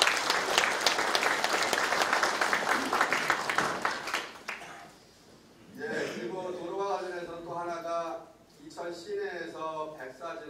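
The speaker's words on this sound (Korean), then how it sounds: "박수 한번 해주십시오." Audience applause at an agricultural training session in Icheon, a burst of steady clapping for about four seconds that fades out, followed by someone speaking into a microphone.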